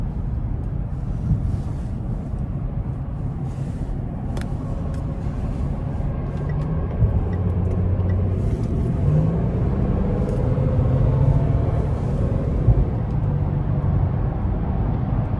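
A 2017 Range Rover HSE with a supercharged V6 pulls hard onto an interstate, its engine a steady low rumble building gradually beneath wind and road noise inside the cabin, with no one speaking.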